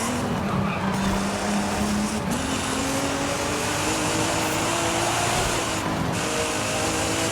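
A 2023 Nissan Z race car in the Forza video game, its engine droning loudly and continuously with pitch shifting through gear changes, while tires squeal and skid under hard cornering.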